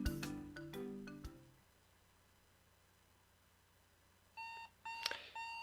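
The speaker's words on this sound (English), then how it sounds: "And our alarm clock again." Video game alarm clock in the DDLC Purist Mod, loud electronic beeping that rings in a quick burst at the start, falls silent, then returns as short repeated bleeps near the end.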